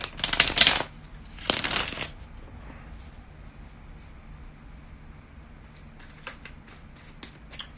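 Tarot cards being shuffled in two loud riffling bursts near the start, followed by quieter scattered card handling and light taps against a soft background.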